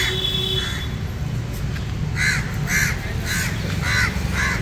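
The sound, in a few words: crows cawing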